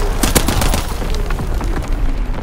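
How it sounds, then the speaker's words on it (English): Incoming enemy artillery in a Call of Duty: WWII match in the Ardennes Forest, with loud rapid gunfire bursts and booming impacts crowding together over a heavy low rumble. "Incoming enemy artillery!"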